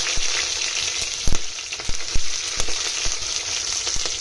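Onions, green chillies, cloves and bay leaf frying in a pan for vegetable pulao, a steady loud sizzle with a few sharp clicks of stirring scattered throughout.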